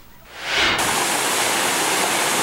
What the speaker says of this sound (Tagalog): Akalain mong natural na waterfall o talon ang dinarayong Madong Dam sa bayan ng Dingra sa Ilocos Norte.